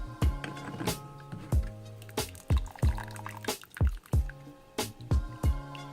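A Mishimoto thermostat for a Nissan 350Z / Infiniti G35 sits in boiling water, with close, irregular bubbling, popping and dripping sounds that repeat throughout.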